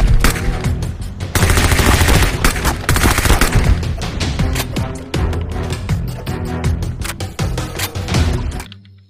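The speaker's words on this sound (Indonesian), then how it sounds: "Wow, di sini ada tembak-tembakan." Cartoon gunfire sound effect: loud, dense bursts of rapid machine-gun shots and blasts rattling almost continuously before stopping abruptly, no voices.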